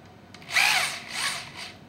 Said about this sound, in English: is set this drill in pretty deep